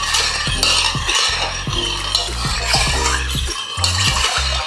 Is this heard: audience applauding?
no